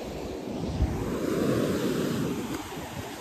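Sea waves break and roll continuously on the Konkan coast between Sindhudurg and Ratnagiri, a dense steady surf roar with wind buffeting the microphone throughout.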